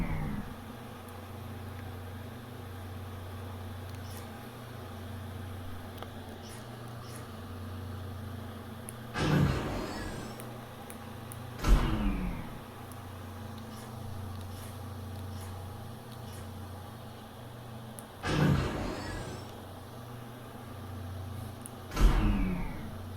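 Spacesuit thrusters in Lone Echo VR firing in a few short whooshing boosts over a steady low hum, each burst separated by several seconds of quiet drone.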